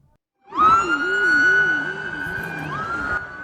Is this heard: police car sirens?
yes